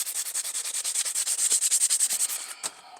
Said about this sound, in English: So now I just got to hand sand it